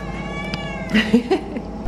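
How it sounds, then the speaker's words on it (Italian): A cat meows and caterwauls indoors, several short, whiny calls close to the microphone. "Gatto Denver non puoi essere così geloso"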